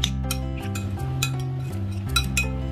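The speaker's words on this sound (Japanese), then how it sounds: "これよく混ぜてください" A spoon clinks against a bowl while grated new onion batter is mixed with potato starch, giving a quick series of sharp metallic taps over a steady background hum, with no one talking.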